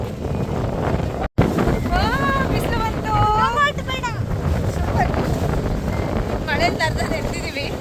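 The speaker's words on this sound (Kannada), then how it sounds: "ಗಾಳಿ ಇದೆ, ಗಾಳಿ ಸಿಕ್ಕಾಪಟ್ಟೆ ಗಾಳಿ." Strong wind sweeps across a hilltop at Mullayanagiri, roaring steadily and buffeting the microphone for the whole stretch, with a brief dropout and a few faint high chirps over it.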